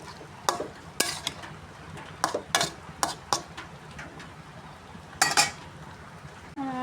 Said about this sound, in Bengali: এখন আমি একটু নাইরা দিলাম